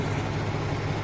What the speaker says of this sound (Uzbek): Motorimiz yurdi, uni ovozini eshitishga mumkin.